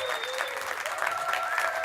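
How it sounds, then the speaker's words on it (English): Audience applause for an award winner at a virtual meetings awards event, a brief, steady wash of clapping with a faint tonal whistle running through it. "one more round of applause for Daita Sergi"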